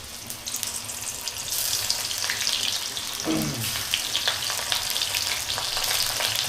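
Jackfruit pieces fry in hot oil for a village-style jackfruit curry, with a steady, loud sizzle and crackle that briefly swells as the pan is stirred.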